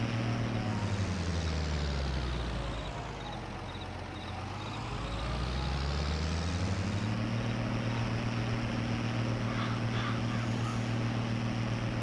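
In Farming Simulator 22, a vehicle engine strains to pull heavy trailers with a constant droning hum. Its pitch sags and then climbs back up, and no one speaks over it.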